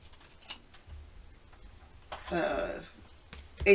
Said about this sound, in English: I'm just going to use my scissors to trim